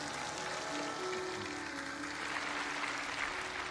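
A church congregation applauds for Jesus during a worship service, a soft, steady wash of clapping from a large crowd, somewhat distant and even, with a faint sustained tone underneath.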